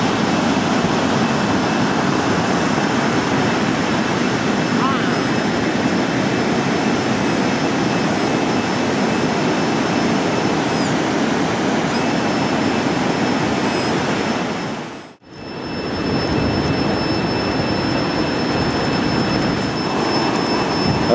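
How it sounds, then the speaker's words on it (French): A Kontiki fishing-line torpedo motor runs at Té Araï Point beach in New Zealand, giving a steady, loud, continuous drone with a high whine that dips briefly near the end before resuming. "Le moteur est en route."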